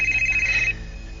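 A cellphone rings with a loud, steady electronic tone for under a second, then drops away, leaving a quieter background.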